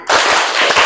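A classroom of students performs a counted clapping pattern, a dense run of loud, rapid, overlapping claps close by that fills the whole moment.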